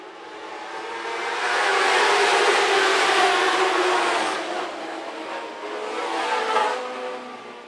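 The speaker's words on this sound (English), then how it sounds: "back underway for the Dwarf cars." Dwarf race cars roar past on a dirt speedway at Phillips County Raceway, the engine noise swelling loud and then fading as the pack circles, with no voices over it.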